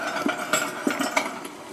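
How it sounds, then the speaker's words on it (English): Pressure canner running on a kitchen stove beneath boiling water, a faint, busy rattle with soft irregular knocks and hiss continuing for under two seconds. "that noise you hear is the pressure canner back there, just underneath where the water is boiling"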